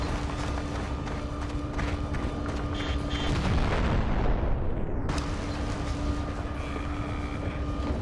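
Gunfire and explosions in the war shooter game Conflict: Desert Storm II, a dense, continuous rumble of battle with a heavy blast partway through, then steady firing carrying on.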